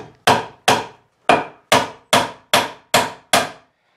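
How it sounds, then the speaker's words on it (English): Eight sharp hammer blows drive 16 penny nails into wooden collar ties on an off-grid cabin build, each strike close and loud with a quick decay, evenly spaced and heard alone. "So go the old way and nail another one of these up for you"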